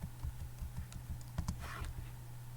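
Quick taps on a computer keyboard typing a short word, a dozen or so light, close clicks in an uneven rhythm over a faint background hum.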